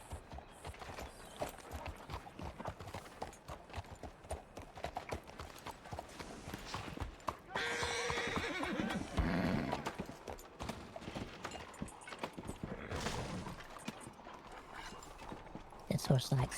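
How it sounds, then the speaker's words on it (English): Horse hooves clip-clop at a steady walking pace in a Red Dead roleplay game, heard continuously and fairly close while people talk over them. "This horse likes getting out of there for a little while."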